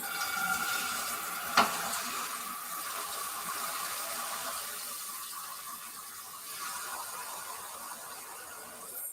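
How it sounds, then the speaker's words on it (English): Running water rinses a pan in a home kitchen before scrambled eggs are cooked: a steady broadband splash and hiss throughout, with one sharp metallic knock early on. "now we're going to rinse the pan"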